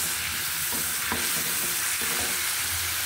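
Fried onions hissing in a pan as a little water is added, a steady loud sizzle with a few soft knocks of a spoon stirring.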